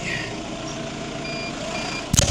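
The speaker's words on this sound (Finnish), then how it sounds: "Tää piippaa täällä tosiaan kun se on paikallaan." A stationary tractor with a seed drill gives off steady, thin electronic warning beeps over a low idling engine hum, with a brief louder clatter near the end.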